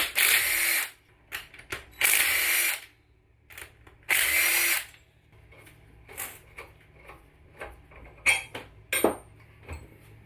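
Power drill or impact tool on the engine case bolts of a Honda CBR600RR motorcycle during a rebuild, several loud whirring bursts of about a second each, followed by quieter clinks and ratcheting of tools and parts.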